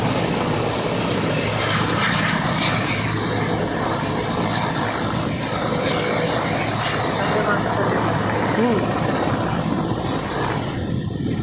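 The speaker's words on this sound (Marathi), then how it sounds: "हा गेला आवाज हेलिकॉप्टर" A helicopter at a presidential visit in Udgir roars overhead in a loud, continuous engine and rotor drone, with people's voices mixed in beneath it.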